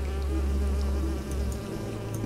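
Bees buzz in the hidden-object adventure game Nightmares from the Deep 3: Davy Jones, where they guard a flower, giving a loud, continuous droning hum up close throughout the short moment, with no talking.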